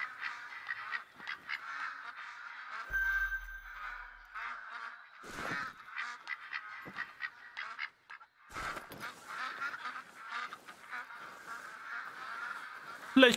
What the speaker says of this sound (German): Warte mal, da hinten sind Enten.